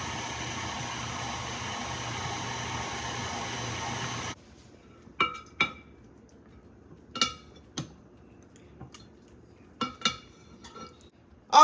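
Vanilla extract being blended into cream cheese and butter in a mixing bowl, heard as a series of sharp clinks and taps of utensil against bowl, spaced irregularly after a stretch of steady hiss.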